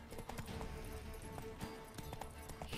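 Horse hooves clip-clop in a steady trotting rhythm while riding past drunken troublemakers in The Witcher 3: Wild Hunt, the footfalls close and clear over a busy game background of ambient sound.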